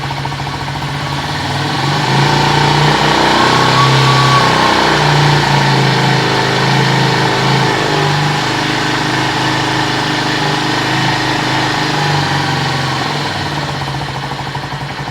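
A new 2023 Venom SS3 KP mini 150 motorcycle engine idles steadily while warming up after its first start, a loud continuous close-up putter with slight wavers in pitch and no voices.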